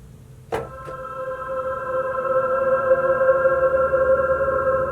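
A sharp transient opens, then a dense, swelling reverberant wash of sustained tones builds and hangs on, with a slight wavering pitch.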